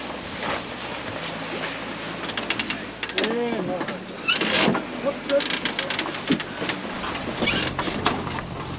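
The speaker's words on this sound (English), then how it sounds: "the main is getting flogged around the place right now" A mainsail flogging on a sailboat out on the Indian Ocean, irregular flapping bursts and clatter among wind noise and sea swell, with people talking nearby.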